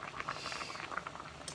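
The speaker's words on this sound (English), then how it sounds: "So we're just going to go ahead and let those boil for a second." Pasta boiling in a pot of lightly salted water for cacio e pepe, a continuous bubbling and popping patter close by, heard alone without speech.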